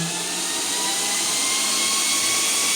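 A Vevor PCP 4500 PSI high-pressure air compressor runs with a loud, steady, close-up mechanical whine and roar that holds constant throughout.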